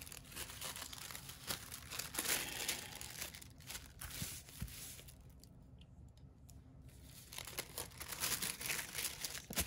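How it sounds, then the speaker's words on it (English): Sheet of tissue paper crinkled and folded by hand close by, a steady papery rustle with sharper crackles, easing to quiet for a moment before the crinkling resumes. "I do have a piece of tissue paper."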